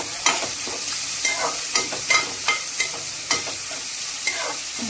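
Two large onions frying with curry leaves for a vegetable biryani sizzle steadily in the pan, while a spoon stirs in a rhythmic series of sharp scraping strokes, close up.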